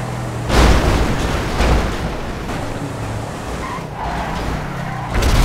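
Mahindra Bolero driven hard in a video game crash challenge against heavy trucks: a steady engine roar with skidding, whooshing noise and loud bursts near the start and end, broad and continuous with no speech.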